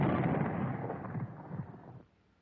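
An anti-tank gun fitted with a recoil reducer fires, a single heavy boom rolling out into a long, loud low rumble that cuts off after about two seconds.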